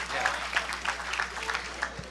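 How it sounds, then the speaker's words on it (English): Crowd applause for two boxers at an amateur boxing event held in a hotel ballroom in Tampa, Florida, moderate clapping from a modest audience with a few sharper claps, somewhat distant and fairly faint. "let's have a nice round of applause for both boxers, please"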